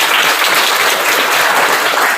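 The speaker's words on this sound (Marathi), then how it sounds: "जोरदार टाळ्या उद्या" Loud, dense applause from a gathered crowd at a Buddhist vihara full-moon gathering, steady and continuous without a break throughout, with no talking over it.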